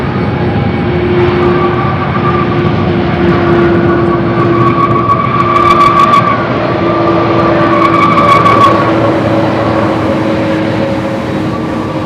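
Landing airplane at Louisville International Airport with worn brakes squealing: sustained tonal squeals ride over a loud, steady engine and rolling roar, with a few sharp metallic chirps midway.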